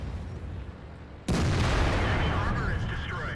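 A tank's main gun fires once in World of Tanks, a sudden heavy boom breaking a low rumble and leaving a long rolling tail, loud and close, with a voice nearby.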